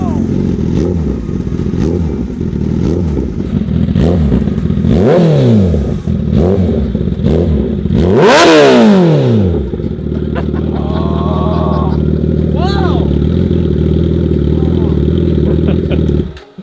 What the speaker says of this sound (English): that's one of the best sounding exhaust systems on a CBR for sure